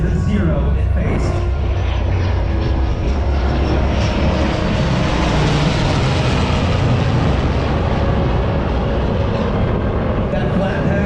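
An F/A-18 jet and an F4U Corsair fly a flat pass together at an air show, a loud, sustained engine roar swelling and fading as they go by.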